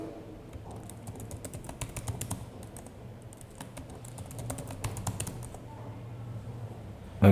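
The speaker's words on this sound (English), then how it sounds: "I'm just typing yes first, then I'm gonna set up the password" A computer keyboard clatters with steady, close key taps while someone types a 'yes' answer and a password during MariaDB security setup on a LAMP stack, with no voices.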